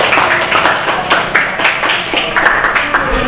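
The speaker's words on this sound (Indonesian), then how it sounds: "tepuk tangan untuk kita semua" A classroom of students claps together, with loud, close, uneven handclaps in quick irregular bursts over about three seconds.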